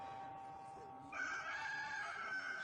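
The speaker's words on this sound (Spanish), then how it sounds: "En ese momento el gallo cantó por segunda vez y Pedro se acordó" A rooster gives one loud, sustained crow that begins about a second in and rings clearly over a steady background hum.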